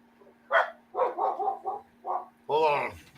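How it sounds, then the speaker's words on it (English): A dog gives a handful of short, close barks in quick irregular succession, ending with a longer, louder bark or yelp, heard over a faint steady hum. "Oh, dogs."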